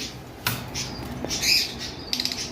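A lutino male and whiteface female cockatiel give sharp, close squawks and shrill chirps in short bursts, with a brief flutter between calls.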